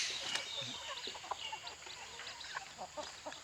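Native Thai Nong Kho chickens cluck and chirp in scattered short calls from several birds at once, fairly faint against a broad hiss of outdoor background noise.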